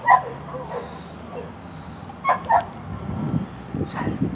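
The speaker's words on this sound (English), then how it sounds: "That is the sound of a lot of dogs," Several dogs bark and yip in short scattered bursts in Cyprus, moderately close, with some whimpering and rustling between them.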